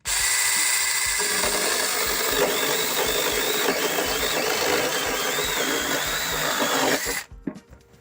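A TEX.AC TAOE-S4 mini cordless chainsaw cuts through a wooden beam, a loud steady whine with the chain biting into the wood for about seven seconds before it abruptly stops.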